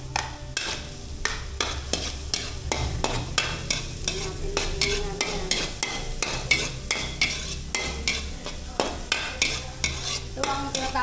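Onions sautéing for spaghetti sauce sizzle steadily in a pan, with a quick, regular series of spatula strokes scraping and knocking against the metal, close and loud with no talking.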